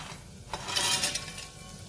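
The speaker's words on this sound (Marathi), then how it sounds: "ह्या कांदा टोमॅटो बरोबर अगदी एक अर्धा मिनिट परतून घ्यायचं" Sandge, sun-dried lentil dumplings, stirred into an onion-tomato masala in a pan, a brief soft sizzle under a scrape of the spoon on the metal, close and quiet.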